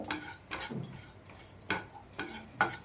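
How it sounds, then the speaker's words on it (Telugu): Flour being roasted and stirred in a pan for moong dal halwa, a rhythmic series of spoon scrapes and light metal knocks, close and quiet. "ఇదైతే మంచి కలర్ వచ్చేంత వరకు వేయించుకోవాలి."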